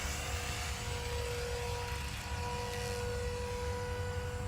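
A Walkera V500D01 flybarless 3D RC helicopter flies outdoors, its steady motor and rotor whine holding an even, continuous drone with a broad rushing wash throughout.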